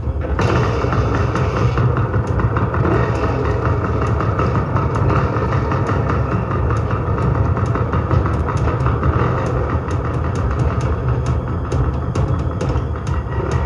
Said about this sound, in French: La moto peut m'emmener loin d'ici.